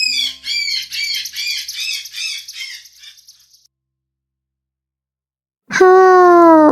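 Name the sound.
parrot squawking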